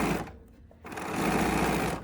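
A BERNINA sewing machine stitches patchwork seams, running steadily at close range, stopping briefly for a moment, then resuming its fast, even whir.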